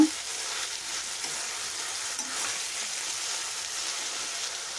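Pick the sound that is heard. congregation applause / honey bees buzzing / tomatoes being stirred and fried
tomatoes being stirred and fried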